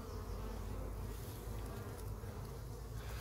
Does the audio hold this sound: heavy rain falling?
no